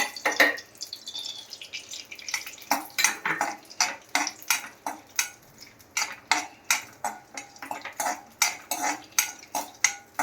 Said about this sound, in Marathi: तूप टाकते ड्रायफ्रूट आपण भाजून घेऊया